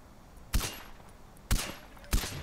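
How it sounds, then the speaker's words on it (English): Rifle gunfire in the Far Cry video game: three separate sharp shots spaced about a second apart, each a loud crack with a short tail over a quiet background. "I'm gradually increasing my rate of fire."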